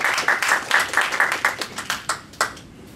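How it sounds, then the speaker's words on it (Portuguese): An audience claps at a Portuguese-language human rights forum: a brief burst of applause from a small crowd that quickly thins to scattered claps and fades out. "uma salva de palmas aqui."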